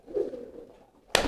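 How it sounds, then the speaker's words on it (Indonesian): A domestic pigeon kept in a loft coos softly with a low, rolling call, a close, moderate sound that fades before a sudden louder burst of noise at the end. "berbeda dengan ini merpati kolong saya si rampok"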